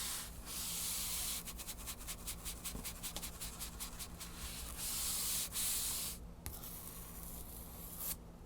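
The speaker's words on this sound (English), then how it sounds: "this book has a ridge in it back here, and it sounds great when this" Bristles of a brush rasp across the ridged spine of a book in quick repeated strokes, a soft close scratchy swishing that comes in bursts with short pauses between them.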